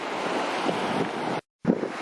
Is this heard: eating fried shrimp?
no